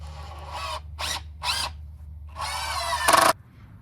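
A power drill drives wood screws into a board for a firewood cutting jig. It gives three short whirring bursts, then a longer run that ends in a louder final push, close and distinct with no speech.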